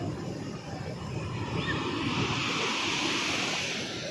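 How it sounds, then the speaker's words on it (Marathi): Sea waves roll in at Karde beach on the Konkan coast, a continuous broad roar of surf mixed with wind buffeting the microphone, steady and fairly loud without clear individual breaks. "एवढं मोठं पाणी आहे की आपल्या डोळ्यात पण बसत नाही. समुद्र आहे शेवटी."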